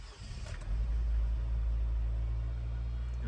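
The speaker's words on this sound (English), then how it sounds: "still felt like it misfired there for a second" A Chevrolet Astro van engine idles with a deep, steady rumble close by after a brief start-up swell, running rough with a faint unevenness hinting at a misfire.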